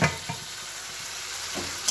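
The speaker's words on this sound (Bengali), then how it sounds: "মশলাটা কষিয়ে রাখি" Spice paste sizzles and crackles in hot oil with a steady hiss, broken by a few soft clinks of a spoon stirring the pan.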